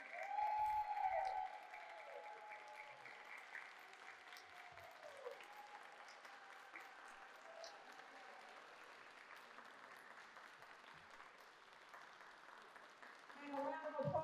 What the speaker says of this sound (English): Let's give another round of applause for our incredible fellows.